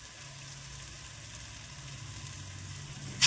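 Ginger and green chillies sautéing in a pan for a Kerala-style egg chammanthi, a steady soft sizzle held at an even low level throughout, with a brief sharper clink right at the end.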